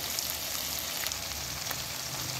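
Potatoes fry in a pan with red chili powder and salt, giving a steady, close sizzle with faint scraping and light clicks of stirring throughout.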